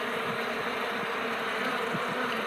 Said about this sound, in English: Now, listen to the bees over here.